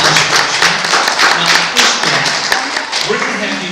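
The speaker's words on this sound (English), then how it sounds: "Nice round of applause." A live audience gives a round of applause at a talk on motivating young girls, with steady, dense clapping close by and sustained for several seconds, along with some voices mixed in.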